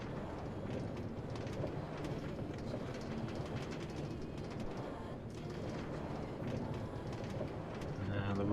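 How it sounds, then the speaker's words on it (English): A railway in Minecraft gives off a continuous rolling rumble with faint clattering, steady and moderately loud, while people talk over it. "The rumble of the railway."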